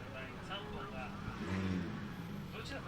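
Drift cars, a Toyota JZX100 and a Nissan S15, at Ebisu during a competition, engine noise humming and rising under a commentator's continuous talk, fairly distant and muffled.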